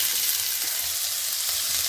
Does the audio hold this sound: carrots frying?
yes